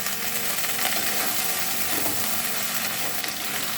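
Okra sizzles and spits steadily in hot oil with turmeric powder as it fries over a medium flame, a dense, continuous crackle that holds at close range with no one speaking.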